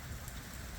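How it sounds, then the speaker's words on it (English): Heavy rain pours down in the Chicago area during a flood watch, a dense, steady hiss of drops striking surfaces close by. "it's raining hardcore right now"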